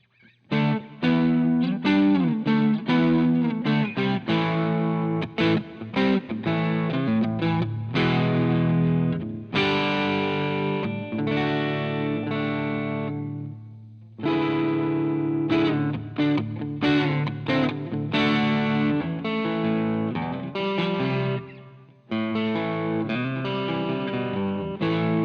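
Electric guitar through a distorted tone, neck pickup, strummed and picked with a green pick, loud and sustained with brief pauses between chord phrases.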